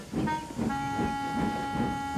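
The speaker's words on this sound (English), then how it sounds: "Sir Handel puffed away to fetch his coaches." Cartoon narrow-gauge steam engine puffing off to fetch coaches, a loud close chuffing rhythm under a sustained whistle-like tone, with no talking over it.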